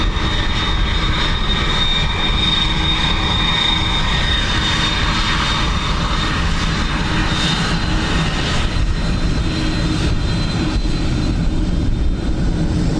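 Ryanair jet coming in to land on runway 28 left at Dublin Airport, a steady, loud engine roar that fills the whole stretch without a break, with no voices over it.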